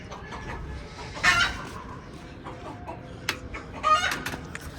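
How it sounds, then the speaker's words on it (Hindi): A rooster out in a yard gives a few faint, scattered clucks and short calls against a soft outdoor background, with one slightly louder burst near the end. "ये एक मुर्गा इधर रह गया, इसको भी ज़रा मैं इधर बुला लूँ अपने पास"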